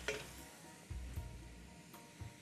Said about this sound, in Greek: Θέλουμε να το τσιγαρίσουμε καλά, να θωρακίσουμε τα ζουμιά του μέσα, να γίνει ζουμερό το κρεατάκι μας.